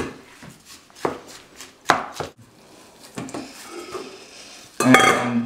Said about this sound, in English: Now I'm gonna mix everything together.